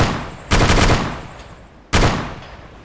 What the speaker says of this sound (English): we are in the back of the DSHKM, and we are going to start opening fire on this vehicle